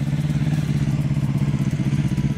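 A manual-clutch motorcycle engine runs steadily at a low idle-like throb while a learner practises riding, the rumble continuous, close and fairly loud throughout.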